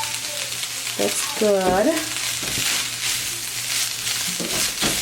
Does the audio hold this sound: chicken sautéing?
yes